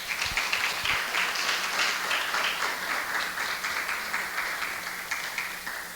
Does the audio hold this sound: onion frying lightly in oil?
no